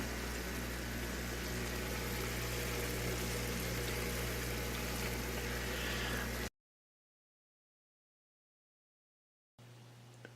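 An air pump for a water treatment system hums steadily and loudly with a constant low drone, then cuts to silence before the hum returns briefly.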